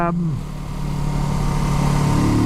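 Kawasaki Z650 RS motorcycle engine running steadily while riding, a continuous low drone that holds an even level throughout, with a voice speaking over it near the start.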